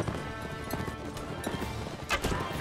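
Cavalry horses galloping in Mount & Blade Warband, a steady rush of hoofbeats with clip-clop rhythm under dense battle noise, and a brief brighter burst near the end.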